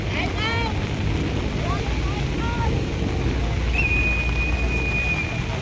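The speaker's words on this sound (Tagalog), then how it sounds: "Lumalakas po yung ulan, mga kababayan ko." Steady heavy rain hisses throughout at the Manila Baywalk Dolomite Beach, with a whistle tone and some distant voices underneath.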